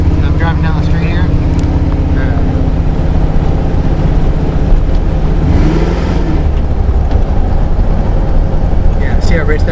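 A car fitted with a Holley EFI HP Terminator fuel injection system drives down a street at operating temperature, its engine droning steadily and loudly from inside with road and wind noise, briefly rising and falling through deceleration.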